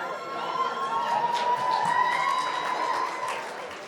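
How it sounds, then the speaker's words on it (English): A crowd at an in-person UK sales awards event applauds the top 50 SDR winners. Diffuse, moderately loud clapping and crowd noise are heard from a distance, with faint cheering mixed in throughout. "Hey, one final round of applause for our top 50."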